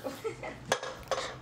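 A metal utensil scrapes and clinks against a pressure cooker pot while barnyard millet sambar rice is stirred, soft, close, irregular taps and clatters.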